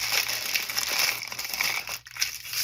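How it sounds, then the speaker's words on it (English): Painter's masking tape crinkles and rasps as it is torn and handled close by, a steady crackly texture broken by a brief pause near the end. "This is that painter's masking tape."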